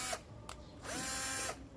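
An electric drill whirs in short bursts, two quick blips and then a longer run with a rising and falling motor whine, close and moderately loud, without talk.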